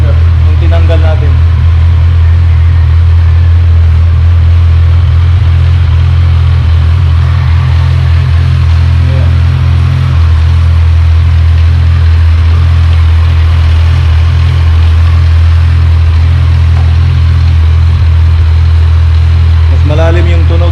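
A Kawasaki Z1000R motorcycle engine idles steadily up close, a deep, loud low-pitched rumble that holds constant throughout with faint background sounds.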